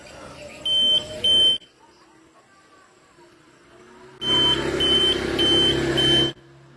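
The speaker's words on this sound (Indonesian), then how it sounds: "Jadi ketika ada orang yang masuk, dia akan otomatis menerima sensor dan akan berbunyi" A motion-sensor door alarm goes off in two loud bursts of rapid, shrill electronic beeping: a short one near the start and a longer one later, with a quiet room in between.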